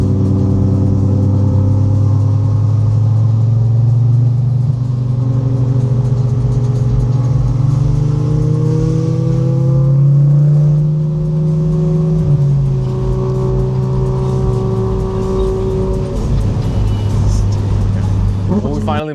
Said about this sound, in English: We're going to be going on a drive with the GT3 RS on the mountains